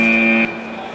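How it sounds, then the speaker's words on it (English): The start buzzer at a World Chase Tag quarterfinal, United versus UGen, blares as a loud, steady electronic tone for about half a second, then cuts off abruptly into the arena's background noise. "The buzzer goes, you got to go, Charles."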